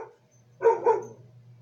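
A pair of quick dog barks sounds close by in an indoor room, two short sharp yaps in a row over a low steady hum, with silence before and after.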